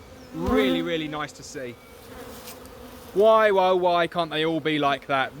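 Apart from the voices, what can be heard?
honey bees buzzing in a packed National hive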